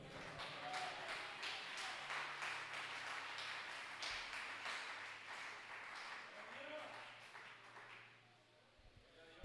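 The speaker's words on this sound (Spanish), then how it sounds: "Denle un aplauso al Señor." Church congregation applauding in a dense, steady patter of many hands over several seconds, fading toward the end, with background voices underneath.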